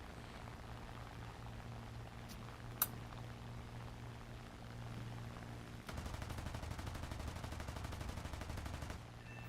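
Aircraft guns fire in War Thunder as a steady, rapid buzzing burst lasting a few seconds over a low engine drone, faint and distant-sounding, after a brief earlier pop.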